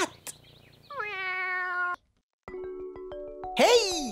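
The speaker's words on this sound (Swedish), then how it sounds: "Där är katten!" Cat meows come in two short bursts, the first a sustained tonal cry, the second stuttering and rising into a louder wail, close and clear, with a brief silence between them.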